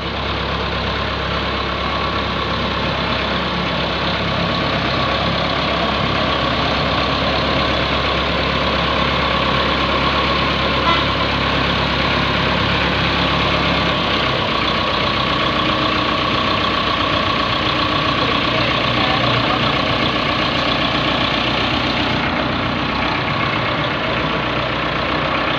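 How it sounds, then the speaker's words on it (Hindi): A YTO Agri master 4x4 tractor engine runs at slow speed, a loud, steady, close mechanical drone with a constant low rumble and no pauses. "बिल्कुल स्लो रेस पे ट्रैक्टर आ रहा है जी"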